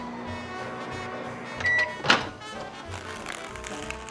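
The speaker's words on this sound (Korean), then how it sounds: "용기째 전자레인지 1분 30초" A microwave oven hums steadily while heating pasta in its own container, with a short electronic beep and then a solid door clunk partway through before the hum resumes.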